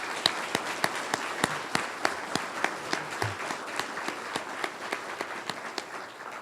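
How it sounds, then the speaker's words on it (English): Audience applause at a utility company's annual meeting during lifesaving and safety awards, a steady crowd of hand claps with sharp individual claps standing out, moderately close and continuous throughout, with no talking. "Please join me in a round of applause for Benjamin,"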